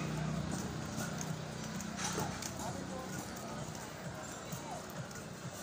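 Horses clip-clop past at Wright Park by the lagoon, a steady, moderately distant hoof rhythm under outdoor ambience, with people talking nearby.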